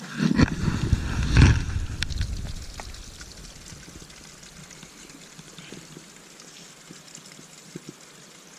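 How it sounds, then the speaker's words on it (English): Spring water trickles down small falls along a hiking trail, a steady soft splashing stream with louder rustling bursts in the first couple of seconds before settling into a quiet continuous trickle. "now it's just little trickly falls"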